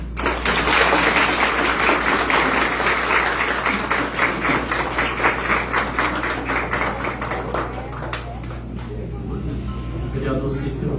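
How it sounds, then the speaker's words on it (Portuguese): Applause from the audience at a formal evening session honoring citizens with awards and plaques, dense sustained clapping that thins out toward the end, with voices mixed in. "Uma salva de palmas."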